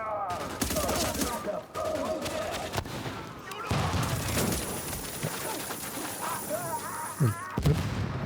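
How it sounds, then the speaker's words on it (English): Gunfire from a shooter video game, The Division, comes as dense bursts of rapid shots and booms throughout, loud and close, with a player talking over part of it. "Wait, who's shooting me?"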